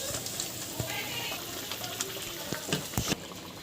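Raw prawns rubbed with salt and turmeric go into hot spiced oil in a pan, giving a continuous close sizzle with a few sharp clinks and taps of utensils.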